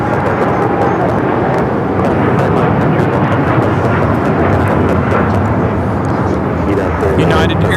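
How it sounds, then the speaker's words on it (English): A United Airlines Boeing 787-10 Dreamliner takes off from LAX bound for Tokyo Haneda, a loud, sustained jet roar that fills the whole stretch without let-up. "United Airlines 39 taking off to Tokyo Haneda on the 787-10 Dreamliner"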